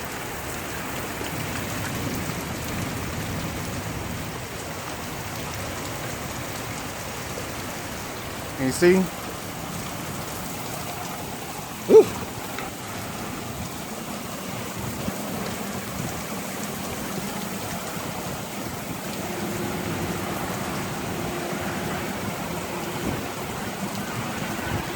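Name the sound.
heavy rain and thunder during Oklahoma tornado storm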